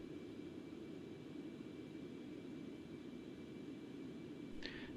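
Concorde jet engines in X-Plane 11 throttling back, a steady broadband roar with a low rumbling hum that holds constant and loud throughout, with a brief hiss near the end.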